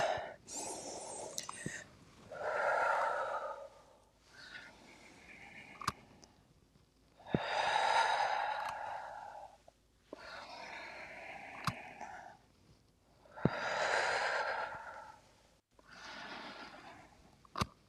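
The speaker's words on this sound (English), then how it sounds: "Exhale. And inhale." Slow, deep yoga breathing in a flowing sweep sequence: long airy exhales and inhales alternate in a steady rhythm, close and soft, with faint clicks between breaths.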